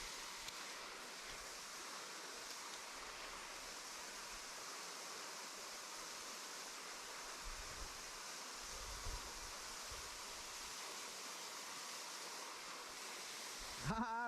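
A waterfall pours into a river pool at a fishing spot, giving a steady, dense broadband roar that stays loud and unbroken throughout, with a few faint knocks near the end.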